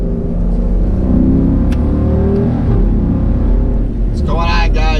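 Jeep Grand Cherokee SRT driving, a loud steady engine and road drone from inside the cabin with a rising rev partway through, and a voice starting to talk at the end.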